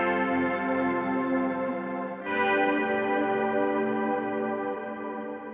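Electric guitar run through the D fretter effect of a BOSS GT1000CORE: a smooth, sustained effected tone with even, rich overtones, held steady and loud on its own, with a brief dip and fresh attack about two seconds in.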